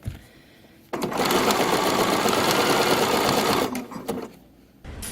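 A sewing machine runs steadily for a few seconds while stitching a caftan cover-up onto tape, its close, even motor whir starting abruptly and then stopping, with quieter handling sounds around it.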